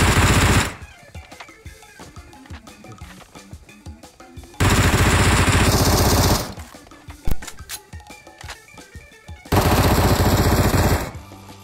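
Bursts of automatic gunfire from the PUBG Mobile video game, played in a ranked Ace duo-versus-squad match, come in three loud sustained volleys separated by quieter stretches of scattered single shots.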